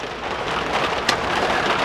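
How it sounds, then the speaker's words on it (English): Steady rain falls outside a greenhouse, a dense, even hiss of drops on the surface with no voices, holding at a constant level for under two seconds. "apologies for the rain noise."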